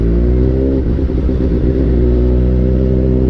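Suzuki GSR 750 inline-four motorcycle idling and revving close up, a loud smooth engine and exhaust note with a brief rise in revs and steady harmonic drone, no talk.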